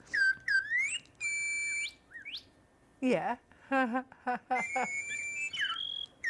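Robotic toy birds from a Joy For All companion pet line whistle and tweet in bright, repeated chirping phrases close by, sounding between and under lively conversation from several people.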